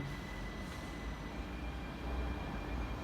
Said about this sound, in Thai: รถไฟก็จะวิ่ง